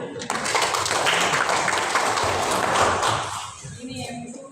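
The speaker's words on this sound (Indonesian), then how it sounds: "Tepuk tangan dulu" Group of people clapping hands together in a classroom or school setting, a dense, loud burst of applause lasting several seconds before fading, with faint voices underneath.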